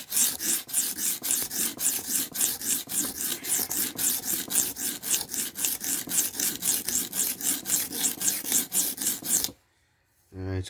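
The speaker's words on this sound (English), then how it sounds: "Let's see how I'm gonna try to sharpen as best I can with the cheap whetstone." Kitchen knife drawn repeatedly across the coarse side of a cheap whetstone, a steady rhythmic rasping of close, loud strokes, about two per second, stopping abruptly near the end.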